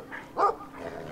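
A dog barks in the video game Brothers: A Tale of Two Sons, one loud bark in the middle with softer yips before and after, heard alone without talk.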